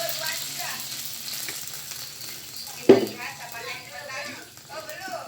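Water poured into a hot pan of frying rice seasoned with gochujang sauce sets off a sharp burst of sizzling, then a softer crackle with stirring scrapes continuing beneath.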